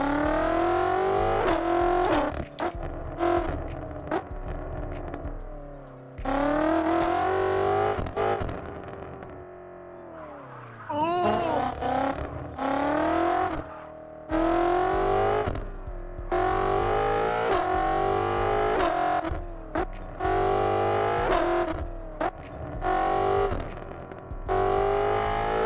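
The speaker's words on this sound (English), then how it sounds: "the pops, the crackles, the snaps" Car exhaust popping and crackling in the No Hesi driving game, loud engine revs cutting in and out with a sharp gap and rev drop near the middle, continuous and close throughout.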